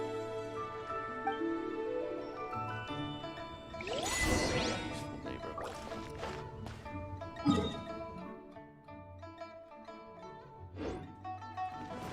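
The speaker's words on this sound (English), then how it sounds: "this is the cleansing bell" Cleansing bell in Genshin Impact, clear ringing chimes with sustained metallic overtones over soft ambient music, one brighter swelling strike midway followed by lighter tinkling rings, fairly quiet and without talk.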